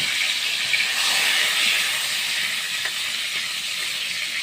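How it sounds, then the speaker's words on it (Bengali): Cut and washed dried bamla fish frying in hot oil in a pan, a continuous close sizzle and hiss that stays loud and even throughout without talk. "তেলটা গরম হয়ে গেছে, একটা বামলা শুটকি কেটে ধুয়ে নিয়েছি, এটা দিয়ে দিচ্ছি।"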